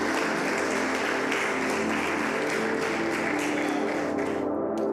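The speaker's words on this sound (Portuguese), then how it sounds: "Aplauda o Senhor com toda a sua força." A church congregation applauding during a service: dense, loud, continuous clapping fills the room for nearly five seconds, then cuts off abruptly at the end.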